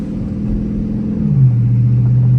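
Dodge Charger R/T engine at night on a drive, a deep steady rumble heard from inside the car that drops to a lower, smooth drone as the revs settle.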